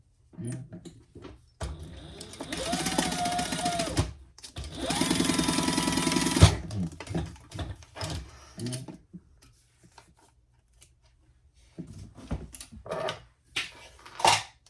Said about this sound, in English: stitch along these slanted edges